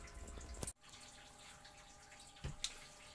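Wort from the mash tun runs into the brewing kettle during a home brew, a steady close trickle of liquid. It breaks off briefly near the start and comes back with a few sharp splashes or drips.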